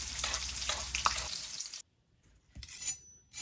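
Dry-aged steak sears in a pan with crushed garlic and butter, a loud steady sizzle lasting nearly two seconds before it cuts out, then a brief burst of spatter returns near the end.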